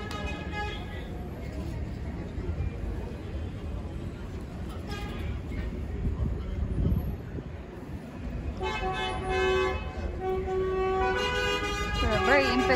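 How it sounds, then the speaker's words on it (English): A tram approaching its stop near the Beyazit and Grand Bazaar area of Istanbul, Turkey, sounds repeated toots of its horn over busy street noise and talk, and the later blasts are loud and close. "They will just honk and honk like crazy."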